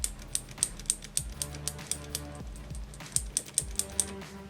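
Clicky Cherry MX Blue mechanical switches on a small DEC test keyboard, typed in quick bursts with sharp, high-pitched clicks and a short pause midway, close and fairly loud, no talking.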